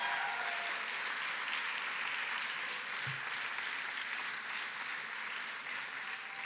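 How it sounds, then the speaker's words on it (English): An audience at an evening awards gala claps together for everyone in the room, a continuous, even wash of applause holding at steady volume from start to finish. "Can I get a round of applause for everybody in this room?"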